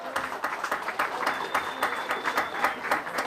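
Audience clapping at an addiction awareness rally, a moderately loud mix of individual claps with a few sharper hand strikes standing out, steady through the clip.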